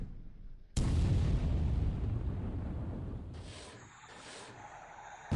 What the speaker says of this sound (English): one torpedo, however many torpedoes we fired total, one of them hits and explodes